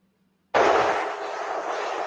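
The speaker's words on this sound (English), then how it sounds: "you can hear several gunshots in this security video from his front step" Gunfire picked up by a Ring security camera on a front step. A sudden loud bang breaks the silence, then a long, rumbling echo fades slowly with no distinct follow-up shots.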